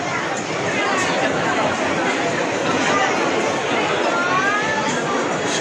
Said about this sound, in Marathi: सॉलिडच गर्दी आहे.